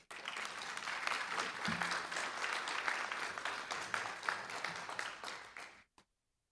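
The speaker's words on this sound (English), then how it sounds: "I'd like for this crowd to give this group a round of applause" A crowd at a school district board of trustees meeting applauds steadily for about six seconds, a dense, even patter of many hands that fades and then cuts off.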